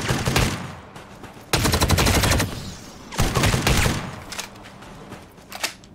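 An energy weapon fires in the survival video game Dysterra, delivering loud bursts of rapid automatic shots in several clustered volleys with brief pauses between them.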